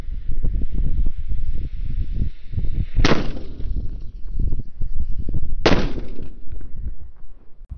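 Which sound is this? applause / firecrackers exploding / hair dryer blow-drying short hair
firecrackers exploding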